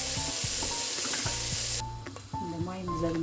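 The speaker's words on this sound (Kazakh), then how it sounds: "Енді мына қызып тұрған қазанымызға мен мынандай жылқының майынан салып жіберемін." Horse fat sizzles and crackles in a hot cauldron, a loud steady hiss that drops to quieter popping partway through as the fat settles.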